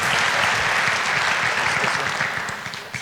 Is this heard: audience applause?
yes